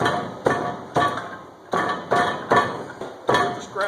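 Sand being rammed into a foundry mold with a hand rammer, a series of about eight sharp, regular thuds spaced roughly half a second apart, close and fairly loud, with no voices.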